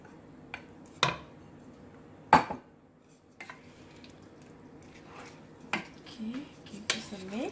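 Meat and soaked oats dropped into a pressure cooker for homemade haleem, with a few scattered metallic clanks and soft wet thuds against quiet kitchen background.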